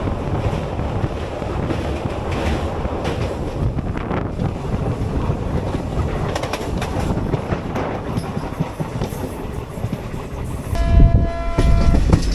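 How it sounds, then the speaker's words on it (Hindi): A passenger train pulling in at Nabha railway station in Punjab on the Ambala to Shri Ganganagar route. It gives a loud, continuous rumble with wind buffeting, clickety-clack of the wagons and a brief horn near the end. "ट्रेन जो है वो पहुंच गई है जी नाभा"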